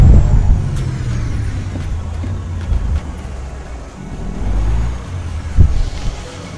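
Truck braking in American Truck Simulator, a low rumbling engine drone with hissing air brake releases and a couple of louder brake bursts near the end, steady and close.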